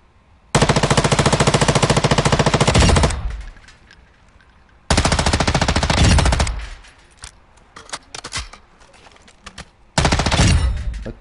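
Machine gun fire in the video game Warzone, three long rapid full-auto bursts with a high rate of fire, loud and close, separated by short gaps of faint background noise.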